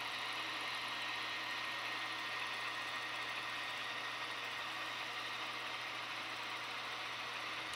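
Model diesel locomotive engines fitted with Tsunami sound decoders, several units running together in a BN (ex NP) switcher consist, give a steady, continuous idling drone with a faint knocking texture, moderately quiet and without speech.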